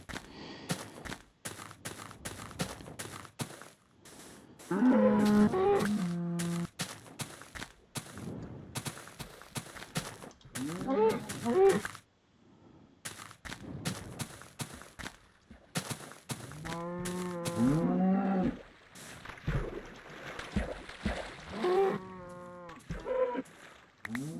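Cows low repeatedly in a video game, several drawn-out moos rising and falling at intervals amid sparse footsteps and small game sounds, fairly clear and unaccompanied by speech.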